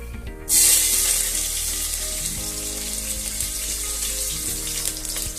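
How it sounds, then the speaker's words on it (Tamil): Onions dropped into hot oil for veg pulao burst into a loud, bright sizzle that settles into a steady, close crackle with a low hum underneath. "சேர்த்துட்டு இது நல்லா கோல்டன் கலரில் வர அளவுக்கு ஃப்ரை ஆகட்டும்."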